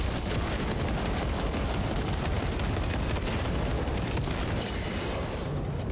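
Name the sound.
frag grenade explosion in the video game Space Marine 2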